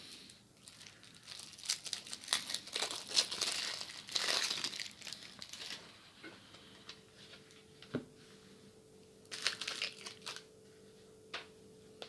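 Packaging of a Strixhaven Commander deck, Lorehold Legacies, being opened by hand, with close crinkling and crumpling of plastic wrap in bursts, then quieter scattered clicks and rustles.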